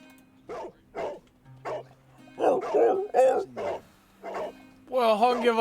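A dog in the Sherlock Holmes: The Devil's Daughter video game barks and yips repeatedly in a quick irregular series, close and clear, ending in a longer whining bark, with a low hum underneath.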